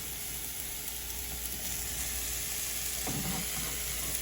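Mushrooms and sun-dried tomatoes in oil frying in a pan, a dense steady sizzle close by, with a brief stirring scrape near the end.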